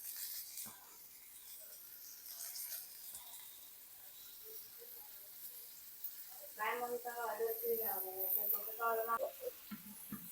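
Bangda mackerel fries in a pan with curry leaf stems, a faint, even sizzle and hiss running throughout, with a voice speaking over the later part.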